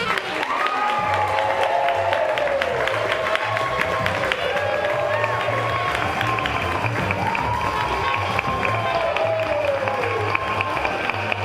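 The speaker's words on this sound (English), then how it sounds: "What a crowd here at WBBZ TV." A TV studio audience applauds and cheers in a continuous roar of clapping, with whoops and shouted voices rising over it throughout.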